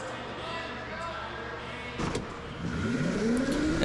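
Go-kart engines rev up on a league race day track, a rising whine building from about two seconds in and climbing in pitch as the karts pull away, loud and close over a steady background.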